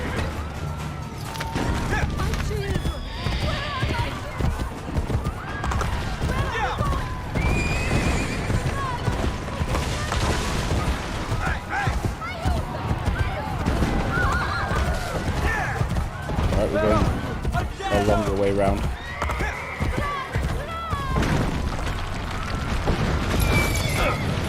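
In Assassin's Creed Brotherhood, a horse whinnies and gallops with rapid hoofbeats amid a chaotic battle full of crashes and explosions, while voices speak over the action.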